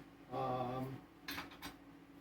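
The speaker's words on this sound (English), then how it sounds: "just getting a silicone spatula here" Clink and rattle of a silicone spatula being picked out from among metal kitchen utensils while making beef and vegetarian pot pies, a short burst of close clattering followed by a couple of lighter knocks.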